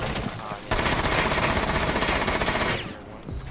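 Automatic gunfire in the video game Rainbow Six: Siege, a loud, continuous rapid burst lasting about two seconds that starts abruptly and then cuts off.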